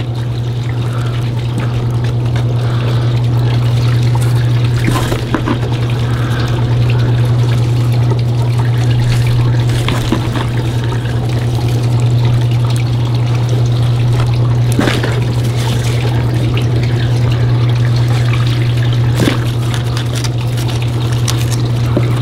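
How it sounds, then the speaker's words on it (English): Water pours out steadily during a large custom aquarium build, a continuous trickling splash over a strong low hum that runs the whole time, with no speech. "I'm actually just going to pour it out and then move it up."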